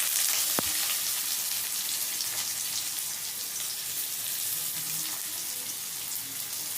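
Chopped onions fry in a pan with green chillies, making a continuous close sizzle with faint stirring scrapes and one sharp tap near the start, no voices.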